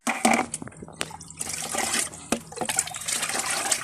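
Liquid splashes out of a container onto elephant foot yam plants in a garden bed, a short burst of pouring and spattering with a few sharp knocks mixed in.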